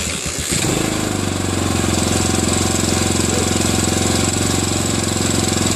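A 1982 Honda XL500R single-cylinder motorcycle cold starts after an oil change and carb cleaning, coughing to life and then settling into a loud, steady, thumping idle close by.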